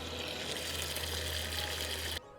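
Coolant running steadily from an opened hose on a 1996 Volvo 850, a continuous close trickling wash that cuts off abruptly near the end.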